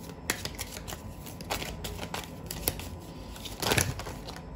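Quiet, close crisp card handling with a few brief slides and snaps as a card is drawn from a guidance-card deck, ending in a slightly louder shuffle of cards.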